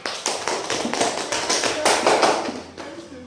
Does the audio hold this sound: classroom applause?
yes